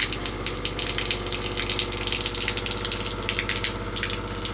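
Water gushes steadily from a campervan's shower over a pump's low whir, loud and continuous from start to finish.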